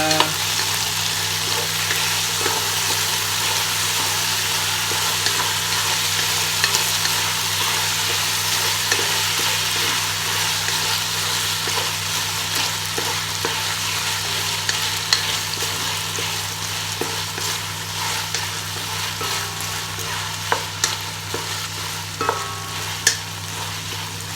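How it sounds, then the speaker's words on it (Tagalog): Stirring a frying mix with oyster sauce in a pan gives a steady close sizzle under continuous scraping and clinking of the utensil, with a constant low hum behind it and no talk. "Tapos, ayan, imix natin siya."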